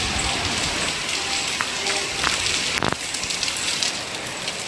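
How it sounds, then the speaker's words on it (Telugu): Steady rain falling outside an apartment after a long dry spell, a dense even hiss of drops on surfaces with a few louder close taps, continuous and fairly near. "బయట వర్షం పడుతోంది, చాలా హ్యాపీగా ఉంది."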